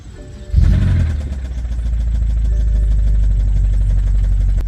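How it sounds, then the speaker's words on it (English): A car engine turns over and settles into a loud, close idle with a steady rhythmic knocking running through the rumble. "this is the sound that came out of the engine."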